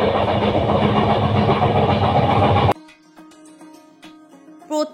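A train running from Kolkata's Santragachi station to Puri, heard inside the carriage, makes a loud, steady rumble and rattle for about three seconds before cutting off abruptly to quiet room sound with small clicks.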